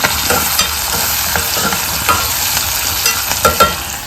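A tomato mixture with curry leaves is stirred in a pan: loud, continuous frying sizzle up close, broken by repeated scraping and tapping strokes of the spoon.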